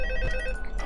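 A telephone in the video game Five Nights at Freddy's 2 rings, a brief bright electronic bell tone with steady harmonic pitches, loud and close, alone without talk.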